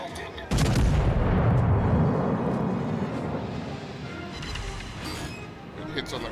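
Naval gunfire from the World of Warships game strikes an enemy cruiser, a sudden loud boom followed by a long rumbling roar and crackle, with game voice callouts and player talk running over it.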